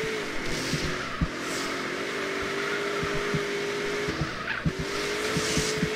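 In a GTA roleplay video game, a stolen car drives with a steady engine drone under sustained tire squeal, marked by repeated short clicks and knocks, with no talking.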